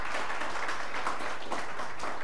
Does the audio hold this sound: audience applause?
yes